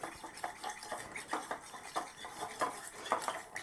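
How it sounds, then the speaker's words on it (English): Olive oil and vinegar dressing is whisked in a bowl for a frisée, pear and blue cheese salad, giving quick, close, rhythmic metal scraping and clinking against the bowl, faint and steady without talk. "You have to mix it until it's uniform, until the oil and vinegar don't look like they're separated."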